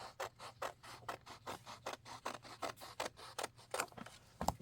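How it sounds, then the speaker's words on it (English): Scissors snipping steadily through a magazine cutting, a close, quiet run of about twenty evenly spaced crisp cuts with no talking. "I think I will trim it underneath the photo description here"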